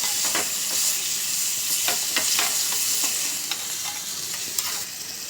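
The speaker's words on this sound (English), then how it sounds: "After the garlic is fried in butter for say 1-2 minutes" Garlic fries in melted butter in a pan, a steady close sizzle with repeated light scraping and clicking as it is stirred, no talking.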